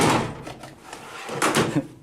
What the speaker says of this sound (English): I wanted to show you another drawer.